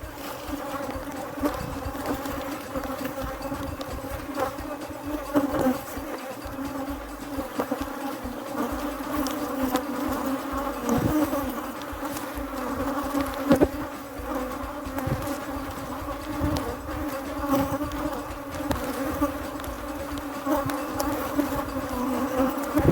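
Honeybees buzzing over hive frames during a frame inspection: a steady, dense drone close up throughout, with no talk.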